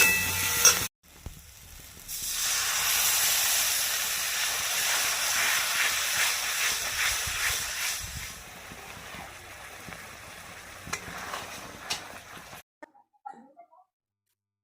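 Water hits a hot frying masala of turmeric and salt, cooked until the oil separates, for an egg and brinjal dish. A loud, steady steam hiss and sizzle runs for about ten seconds, then fades into near silence.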